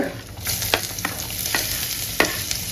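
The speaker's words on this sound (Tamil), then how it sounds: "நம்ம துண்டு துண்டா கட் பண்ணி வச்ச இஞ்சியை இதில் சேர்த்து எண்ணெயில் வதக்கணுங்க" Chopped ginger pieces sautéing in oil alongside fried urad dal for a traditional ginger chutney, a close, steady sizzle broken by a few sharp spoon scrapes against the pan.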